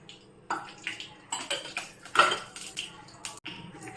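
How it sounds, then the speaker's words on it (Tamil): Clinking metal utensils and a pan knocking on a stove, with a brief pour of about two spoons of oil in the middle; irregular, close kitchen sounds. "அதுக்கு நம்ம அடுப்பில் சட்டி வச்சுருக்கேன். அதில் வந்து நம்ம ஒரு 2 ஸ்பூன் எண்ணெய் ஊற்றிப்போம்."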